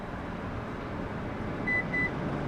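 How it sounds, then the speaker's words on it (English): Two short, clear electronic beeps from a Lexus LX 600 / LX 700h as its seat memory is reset, sounding in quick succession over a low steady cabin hum. "6 total beeps, now we're reset."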